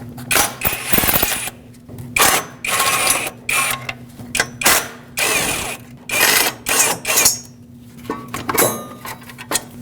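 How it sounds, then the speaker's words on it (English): Ratchet fitted with a 10mm socket works bolts out of a GMC Yukon exhaust shield, loud close clicking in repeated bursts with brief gaps, over a steady low hum. "Let's remove this shield using a 10mm socket."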